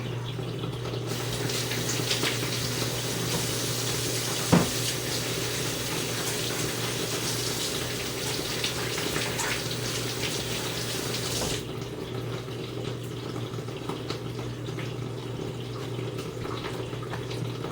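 Water rushes steadily into a dishwasher filling up, with a constant hiss and a low mechanical hum underneath, one brief clunk partway through, no one talking.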